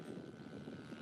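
A steady propeller drone from an E1 model airplane flying overhead on a gusty, bumpy day, continuous and moderately distant, with no voices.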